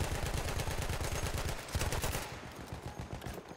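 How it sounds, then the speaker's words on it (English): Rapid machine-gun fire from Battlefield 1 multiplayer comes in dense, fast bursts, loud and continuous for about two seconds before trailing into quieter gunfire and echoing shots. "Machine gun, looks like."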